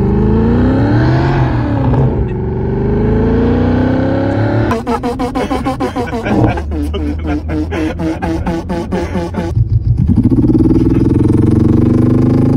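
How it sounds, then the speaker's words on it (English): A plug-in car device, linked to a phone and the car radio, plays a fake supercar engine: loud synthetic revs that rise and fall, then a rapid stuttering burst of high revving mid-way before settling back to a droning idle. "it makes your car sound like a supercar by connecting to your phone and the radio"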